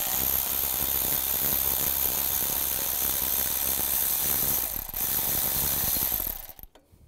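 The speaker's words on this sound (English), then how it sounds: "Take the tensioner off. Use a 15 millimeter socket." A socket ratchet clicks steadily and fast, close up, while loosening the serpentine belt tensioner bolt on a 2002-2009 Chevy Trailblazer, then stops near the end.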